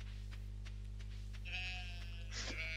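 Sheep bleat in the Stardew Valley farming game: two short, fairly faint bleats over a steady low hum, with no one speaking.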